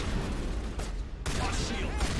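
Gunfire in Mass Effect Legendary Edition, dense rattling bursts of shots in a noisy combat scene, loud and continuous over two seconds with a brief dip in the middle.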